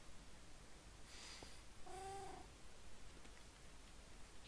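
One brief Minecraft cat meow in game, heard once after a soft breathy sound, moderately faint against a steady low background hiss, with no one talking.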